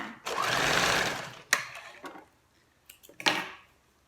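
A sewing machine topstitches about 0.3 cm from the edge of a single-strap camisole top. One long, steady run of stitching is followed by a few short start-stop bursts and clicks, close by and with no talk.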